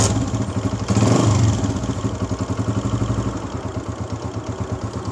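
A 2022 Honda CG125 motorcycle engine runs steadily nearby with a rhythmic mechanical clatter, a brief louder surge near the start, then an even, pulsing idle with no voices.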